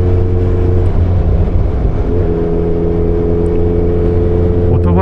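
A steady, loud engine drone holds a constant pitch throughout, a Suzuki Hayabusa sport motorcycle cruising at speed, with a faint rising whine near the end.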